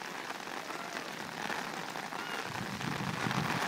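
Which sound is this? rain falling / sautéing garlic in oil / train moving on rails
rain falling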